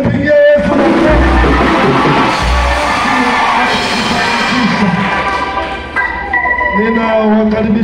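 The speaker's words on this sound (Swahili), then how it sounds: "nyanyua mikono juu na mpigie Yesu makofi" Children clap and cheer loudly during a church prayer service for students, a dense continuous burst of applause and shouts filling the space with voices mixed in throughout.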